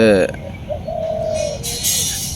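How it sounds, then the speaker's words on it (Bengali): A dove coos from a tree on a misty morning, a soft low hooting call heard at moderate distance over outdoor ambience, with a brief voice-like sound at the start. "গুগু পাখি কত সুন্দর ডাকতেছে"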